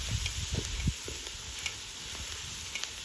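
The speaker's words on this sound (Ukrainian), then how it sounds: "Даємо трохи підсмажитись" Sliced carrot and onion fry in a pan for pilaf, a steady sizzling hiss with a few soft knocks and stirring scrapes at the start, close and alone.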